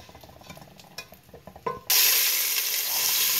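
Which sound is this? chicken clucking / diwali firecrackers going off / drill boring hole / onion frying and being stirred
onion frying and being stirred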